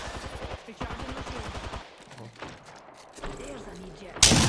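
Gunfire in the Apex Legends battle royale game, rapid bursts of automatic shots in quick rhythmic strings broken by short pauses, close and loud, with a sharp blast at the end and someone talking over parts of it.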